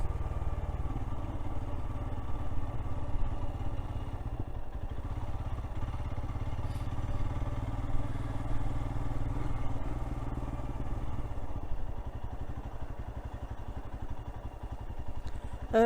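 A Royal Enfield Scram 411 motorcycle runs with a steady, low exhaust rumble throughout, fairly subdued and unbroken, with no talking.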